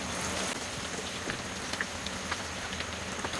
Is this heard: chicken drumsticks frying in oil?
yes